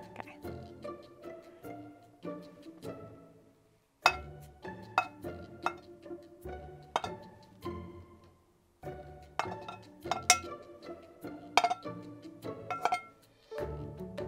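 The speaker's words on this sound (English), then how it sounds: "every time he connects the pan, utensil and the pan" As a foley prop, a utensil strikes a pan in quick bursts of metallic clinks and taps, close and dry, with short pauses between runs and faint voices murmuring underneath.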